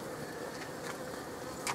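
Honey bees buzzing at a hive frame in a beehive, a faint continuous hum with soft rises, heard alone without talk.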